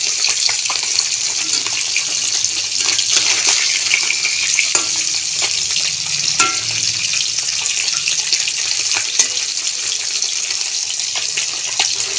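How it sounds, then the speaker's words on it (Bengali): Parshe fish frying in smoking-hot oil, a steady dense sizzle and crackle that runs loud and close for the whole stretch, with a few sharper spatters and clinks rising above it. "বাকি মাছগুলো ভেজে নেব"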